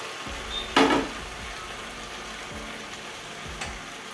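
Chicken pieces and potatoes drop into a hot pan in a short, loud burst of sizzling, then settle into a steady low frying hiss with faint clinks.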